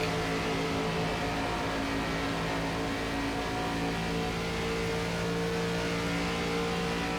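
ARCA stock cars race in the iRacing simulator, their engines droning in a sustained, steady roar with layered tonal whine as the pack runs together, constant and close without breaks.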